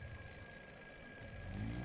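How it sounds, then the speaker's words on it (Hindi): An alarm clock rings on a bedside table in a bedroom in the morning, a steady continuous electronic ring holding level and fairly close for the whole stretch with no voices. "पास रखे टेबल पर अलार्म क्लॉक बजने लगा।"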